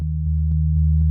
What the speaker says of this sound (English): And here's our bass notes.